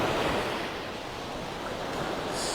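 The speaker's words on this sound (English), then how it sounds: "these little waves breaking" Small ocean waves break and wash onto Vanderbilt Beach in North Naples, Florida, a soft continuous hiss of surf with light wind, no voices.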